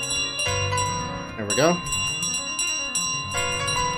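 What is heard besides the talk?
bell ringing in the video game Untitled Goose Game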